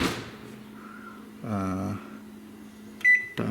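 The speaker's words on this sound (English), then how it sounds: "now I'm gonna set up a timer" A microwave oven being handled while baking homemade white bread: a door clunk and a short humming run, then a sharp electronic beep as the timer is set, close and clear, with no talking.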